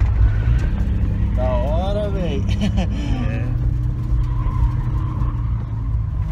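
A Toyota Supra drives and drifts in Japan, its engine a loud, steady rumble close inside the cabin, while passengers talk and react excitedly over it.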